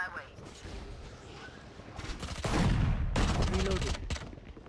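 Gunfire bursts from the tactical shooter Valorant, a loud rattling volley swelling in the second half under excited voices talking over it.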